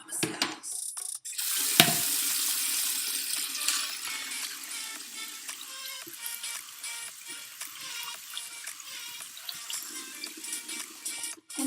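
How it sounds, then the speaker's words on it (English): Water from a tap runs steadily into a sink while hands are washed beneath it, a close, continuous splashing broken by a brief louder burst near the start, with no talking. "To begin, I'm going to wash my hands."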